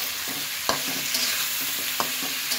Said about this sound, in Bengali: অ্যাড করে দিলাম এবং ভেজে নিচ্ছি